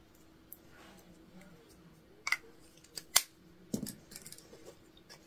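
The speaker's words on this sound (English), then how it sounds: "And we are seam ripping." A seam ripper unpicks stitches from fabric for a hobo bag with a few sparse, sharp snips and small clicks spaced irregularly over soft background quiet.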